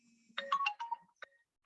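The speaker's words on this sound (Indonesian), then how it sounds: "saya terima telepon dulu ya. Penting kayaknya" A mobile phone ringtone plays a short melodic jingle of bright tones, a quick run of notes followed by a single tone, heard close and alone in a quiet room.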